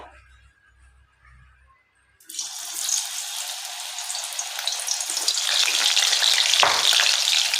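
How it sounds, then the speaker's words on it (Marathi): Marinated soya chunks hit hot oil after a quiet start, setting off a loud, dense frying sizzle that keeps building and holds steady to the end, with no talking. "तर आपले सोयाबीन रेस्ट करून झालेले आहेत आता आपण त्यांना तेलामध्ये तळून घेऊया"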